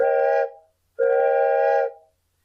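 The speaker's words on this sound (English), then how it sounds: "bought this 4-chambered train whistle" Two loud blasts on a four-chambered train whistle, a chord-like steamy tone, the first about half a second and the second longer, around a second, separated by a short silence.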